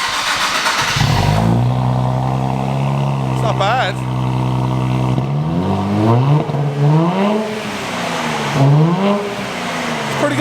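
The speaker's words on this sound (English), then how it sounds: "You're expecting that VQ noise like a 350 or 370, but it's obviously a twin turbo." Twin-turbo V6 engine of a new Nissan Z with the rear back box removed, revving in rising and falling pulls close by, with people talking over it.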